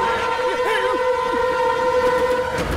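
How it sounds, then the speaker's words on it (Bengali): A cartoon train approaches along a railway track, sounding a sustained loud horn-like tone over a rumbling rolling noise, with faint voices beneath. "ওই ট্রেনটাকে থামিয়ে দাও"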